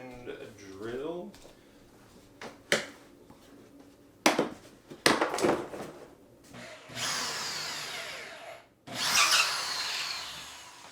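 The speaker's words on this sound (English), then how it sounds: "And a drill." A power drill driving molly anchors into drywall during a home installation job, heard as two loud, sustained whirring bursts near the end. Earlier, people talk amid scattered knocks and handling sounds.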